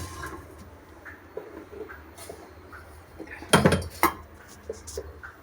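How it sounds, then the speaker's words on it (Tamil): Steel vessels for boiling milk and holding food clank and clatter as they are set down in a kitchen sink area, with light handling noises building to a couple of loud metallic knocks near the end, close by and without talking. "பால் காய்ச்சிற பாத்திரம் ப்ளஸ் சாப்பாடு வைக்கிற பாத்திரம் தான் இங்கே வந்து வச்சுருக்கேன்."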